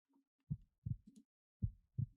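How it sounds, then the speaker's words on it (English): A video game heartbeat sound effect thumps in paired beats, two slow double pulses that are low, dull and clear against silence. "you have the heartbeat sound effects playing"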